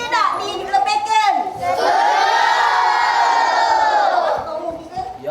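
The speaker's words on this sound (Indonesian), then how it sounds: "Terjerit-jerit terpekek-pekek ini" A live show audience screams and shrieks together in a loud, sustained wave of high-pitched voices, rising sharply after a short stretch of shouting and then fading out.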